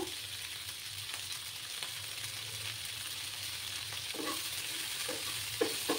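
Chopped tomato sizzling in hot oil in a pan with a little salt, a constant close frying hiss broken by occasional stirring scrapes and a few sharp clinks toward the end.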